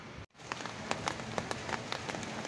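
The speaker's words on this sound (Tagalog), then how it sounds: "Inabot tayo ng ulan." Steady rain patters on a surface outdoors beside a Toyota 2L diesel engine under starter repair, a dense hiss broken by brief louder drops after a short gap near the start.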